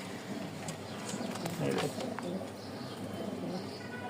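Pigeons at a Mirpur-1 Dhaka pigeon market give soft, low cooing at close range. A few brief calls stand out over a steady background hum, with clip-clop sounds and voices around.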